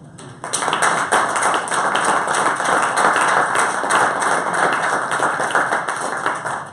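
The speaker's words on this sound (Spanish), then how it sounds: "yo os pediría un aplauso para él" Audience applause after a debate talk on globalized uncertainty, a steady, dense clapping that carries on for several seconds before tapering slightly.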